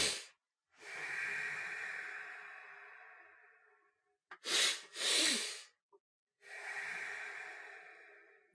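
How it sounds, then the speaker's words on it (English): Physiological sigh breathing technique: breaths drawn in and pushed out audibly through the nose and mouth, with a long inhale, then two quick sharp sniffs stacked one on the other, then a long exhale, close and alone. "He calls it a physiological sigh. And all it is it's two breaths,"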